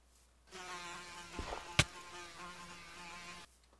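A fly buzzing around in a Minecraft game, a thin droning hum of steady pitch lasting about three seconds, with a couple of sharp clicks partway through.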